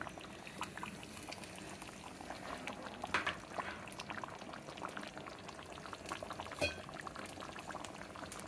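Mutton nalli curry with bottle gourd simmers in a pot, a soft continuous bubbling with scattered pops and a couple of louder splashes, faint and close, no voices.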